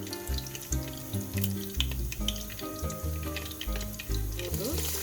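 Spices sautéing in hot sunflower oil for prawn biryani, a close, steady sizzle broken by rhythmic stirring knocks and scrapes throughout.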